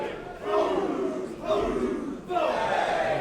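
Capacity wrestling crowd in the O2 Academy during a WCPW tag match, rhythmic chanting in three loud surges, each rising sharply and fading.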